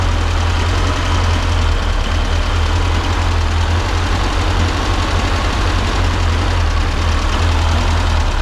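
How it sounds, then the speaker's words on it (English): A 1979 VW Super Beetle with fuel injection idles roughly and loudly, a continuous close engine rumble that stays steady without clear separate pops, and no voices over it. "It might not be picking up on camera, but it's backfiring."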